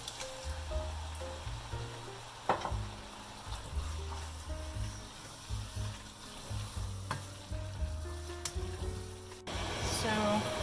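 Tomatoes and vegetables cook in a pot for a Mediterranean family dinner, giving a soft, continuous sizzle and bubbling at low volume, with occasional clinks and scrapes of stirring and a faint steady hum underneath.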